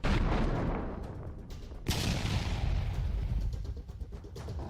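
Russian multiple rocket launchers fire in a rapid roaring barrage during the Russia-Ukraine war, one harsh whoosh after another, loud and continuous with sharp bursts cutting through the rumble.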